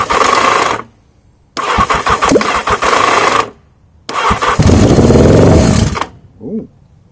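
An old motorcycle engine cranks on its electric starter in three bursts, with a long near, loud, clunky mechanical churn before it catches into a rough running noise, then cuts off.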